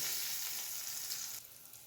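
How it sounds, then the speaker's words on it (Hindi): Hot garlic tadka, fried until browning, hisses loudly as it hits a pan of mixed dal, a bright continuous sizzle that eases slightly toward the end, with no voices. "तो इस तड़के को दाल के अंदर डाल देते हैं इस तरीके से गर्मा गर्म।"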